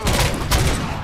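Rapid gunfire from a weapon in the shooter game RoboCop: Rogue City, a loud, dense burst of shots filling the whole short moment with no voices.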